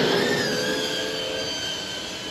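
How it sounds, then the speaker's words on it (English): An FPV drone built on a Drone Co. Production Slammed Squirt kit flies with pink GemFan 5-blade propellers, producing a loud, steady, close motor whine whose pitch drifts slightly lower, with no voices. "It sounds fantastic. The overall sound profile is so much quieter than it was with those bullnose props on it."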